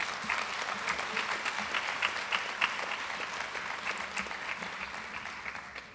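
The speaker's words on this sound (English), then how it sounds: "Let's give them a round of applause." A banquet hall crowd at a school athletic awards night claps steadily, a dense, sustained round of applause that fades slightly toward the end.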